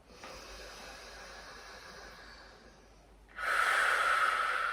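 Breathing through a yin yoga shoulder roll: a soft, steady inhale, then a louder, hissing exhale close to the mic, with no talking.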